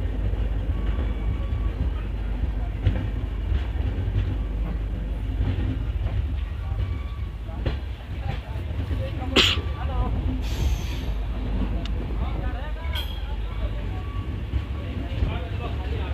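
An EMD diesel passenger train on the Jabalpur–Veraval route runs on rails with a steady low rumble, rattling and occasional clicks and squeals, with voices faintly present over it.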